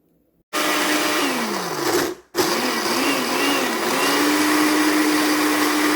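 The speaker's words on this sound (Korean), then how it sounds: "또 생강을 좀 갈아서 보관하는 법 알려드릴게요" A blender grinds ginger with a loud, steady whine that briefly cuts out and restarts, its motor pitch dipping and rising as it works.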